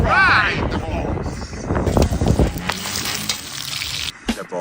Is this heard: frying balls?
yes